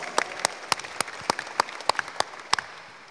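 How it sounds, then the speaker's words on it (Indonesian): Scattered, separate hand claps from a small audience at a Muay Thai press conference, about three claps per second with a few faster doubles, steady and fairly close in a quiet room. "Tepuk tangannya dong."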